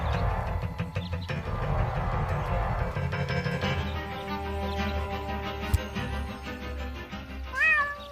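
A cartoon cat meows in a video game, set in a town scene, with plaintive meows rising over a busy ambient background and a sharp cry near the end.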